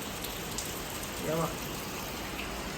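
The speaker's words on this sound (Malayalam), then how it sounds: "പുറത്ത് നല്ല മഴ" Steady rain falls outside as a continuous, even hiss, with a brief faint voice partway through.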